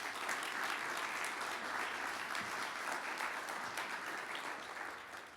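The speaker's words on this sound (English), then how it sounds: "So a round of applause for our speakers." Audience applause for speakers at a tech conference talk, a steady, fairly faint wash of many hands clapping that fades slightly toward the end.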